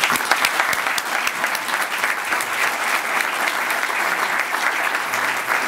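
An audience at a Forty Under 40 awards event breaks into loud, sustained applause for a university chancellor, dense clapping that holds steady from start to finish.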